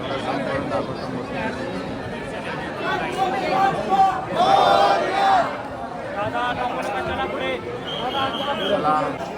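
A busy late-night crowd of Ganesh devotees at a Pune Ganeshotsav pandal fills the air with steady chatter and hubbub, voices rising and falling around a walking listener, with a few brighter tones cutting through midway.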